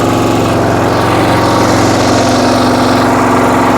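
A walk-behind tractor's small engine chugs loudly and steadily up close, a rough rhythmic idle that doesn't change over the few seconds.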